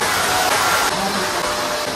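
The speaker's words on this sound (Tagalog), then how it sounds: "Sige, agawan pa ng vacuum." A household vacuum cleaner runs steadily with a loud, broad, unchanging whoosh throughout, and no clear speech.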